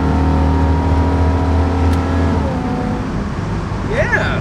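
A 1969 Camaro pulls hard with its engine note climbing, then dropping at a gear change midway before building again. The sound is close and loud, and a voice is heard briefly at the end.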